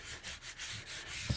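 Paint being sanded off an old steering wheel, heard as rhythmic back-and-forth rasping strokes, about six passes, moderately close with no talk.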